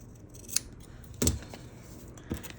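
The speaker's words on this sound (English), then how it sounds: "what I'll do is kind of just trim a little bit off on the underside, make life easier." Scissors trimming the edge of paper for a gate fold junk journal cover, three separate crisp snips spaced apart, close up and fairly loud, no talking.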